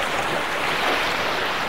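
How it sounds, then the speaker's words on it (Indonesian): Large ocean waves crash and wash in a broad, loud roar of surf close by, continuous with no voices over the short stretch. "Awas ombak nak, besar."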